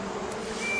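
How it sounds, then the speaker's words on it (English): A swarm of bees buzzes in a dense, continuous drone that stays steady and fairly loud throughout, with no voices. "The bees wouldn't budge and they wouldn't fly away either."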